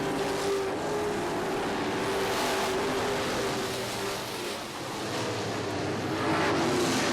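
Limited late model race cars roar around Barrie Speedway on opening night in 2008, a steady, loud wash of engine noise from several cars with a slight dip and swell as the pack passes.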